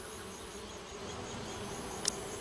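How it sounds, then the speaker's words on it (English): Bees swarm around an old structure in Secret Files 2, a steady dense buzzing drone filling the scene without a break, with one brief sharp tick near the end and no talking. "Those bees don't look very peaceful to me."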